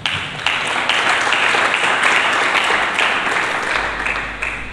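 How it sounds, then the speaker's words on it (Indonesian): A church congregation applauds during a sermon, a dense, steady wash of clapping that holds loud and even for several seconds before easing slightly near the end. "Berikan tepuk tangan."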